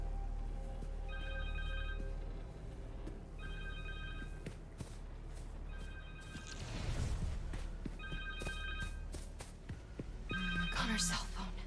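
In the Spider-Man 2 video game a cell phone rings in repeated short electronic bursts at a steady rhythm, with speech and game effects underneath and a heavier crash of sound partway through.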